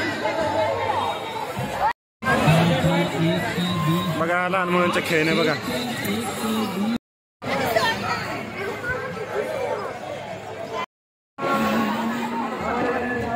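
Dense crowd chatter at a Mahashivratri yatra at Sri Someshwar Mahadev Temple, many voices babbling close around with occasional cheers, broken by brief silent gaps, while a nearby voice talks over it.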